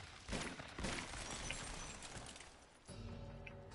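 Gunfire in the video game Uncharted 2, a flurry of fairly faint, rapid shots blended with other action sound effects, then a softer stretch.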